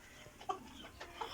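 Tiger breed chickens and roosters on a farm in Chattogram give faint, brief clucks, a few soft calls spread across a quiet moment.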